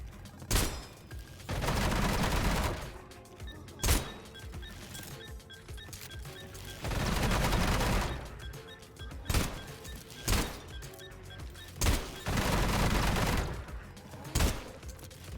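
Bursts of gunfire from the video game Sulfur, several sustained volleys of rapid shots broken by single loud cracks and quieter gaps, close and loud.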